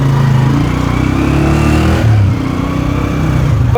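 A motorcycle engine drones steadily while being ridden, a loud, close, buzzing mid-range hum with slight shifts in pitch as the throttle changes, with no talk over it.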